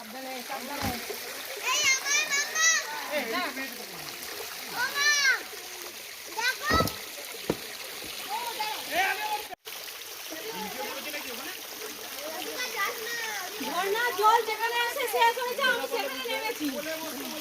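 Water splashes and churns where a waterfall stream ends at Dangikusum in Jhargram, with irregular nearby splashing and a steady flowing wash beneath frequent children's voices and chatter.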